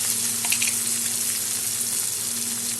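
Fried onion and freshly chopped tomato sizzle in a pan for Bengali fish curry, a steady, close hiss and crackle with no talk over it.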